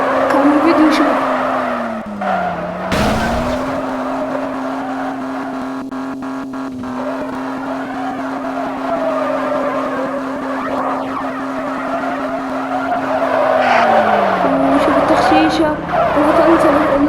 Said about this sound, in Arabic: نوريكم كيف الدخلات وكيف تفحيط مع سيارة لاند وشاص